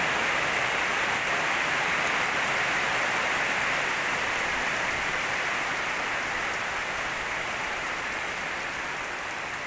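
Heavy morning rain pours down steadily, a dense, even hiss of rain on surfaces that stays loud throughout, with no voices.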